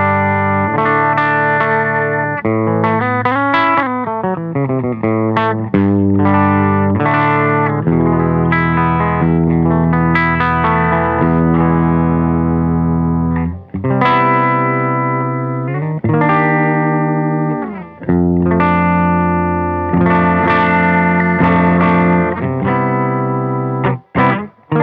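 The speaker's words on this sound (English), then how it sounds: "You go on the neck pickup and it's nice and jangly." A Maghini electric guitar on its neck pickup with a clean, jangly tone, strummed chords and picked runs with a chorus-like shimmer, loud and continuous without talk.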